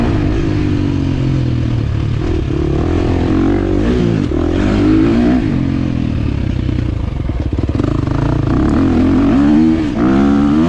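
A 2023 KTM 350 XC-F dirt bike rides hard through deep ruts on a scramble track, its engine loud and close as it revs up and down with rattling and scraping from the terrain.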